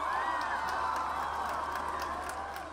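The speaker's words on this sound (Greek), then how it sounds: "Θέλω ένα θερμό χειροκρότημα" Audience at the Super Music Awards 2019 ceremony applauding and cheering, a dense, moderately distant wash of clapping and crowd noise that fades slightly toward the end.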